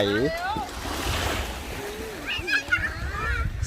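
Sea waves wash continuously at Hat Nam Sai beach in Sattahip, a soft surf and wind wash heard under a voice speaking over it.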